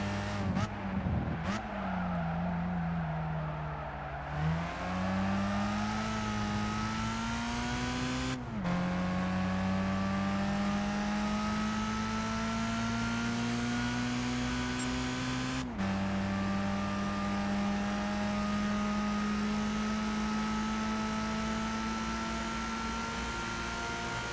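A 1991 Honda Civic engine in Gran Turismo 5 during a World Compact Car race drones steadily, rising in pitch through each gear before sharp breaks at the shifts, with tire squeal mixed in.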